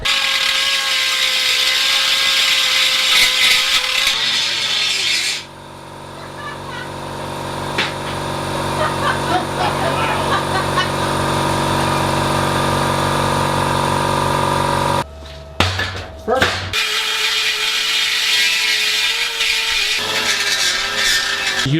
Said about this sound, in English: the next step is to use carbide burr on a die grinder, and then we'll basically put a bevel on the cut